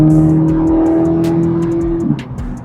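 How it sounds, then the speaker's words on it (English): A 2026 Corvette Z06 with its exhaust in the second of three modes, moderately loud rather than full race mode, drones steadily under light throttle as the car accelerates, then the engine note shifts near the end. "They have like 3 modes to the exhaust in this car. And this is the second mode."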